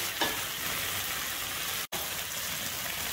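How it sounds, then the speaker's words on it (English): Dal boiling in a pot on the stove, a steady close bubbling and simmering hiss that continues throughout with one brief dropout, no talking. "On the other side, I'm boiling dal."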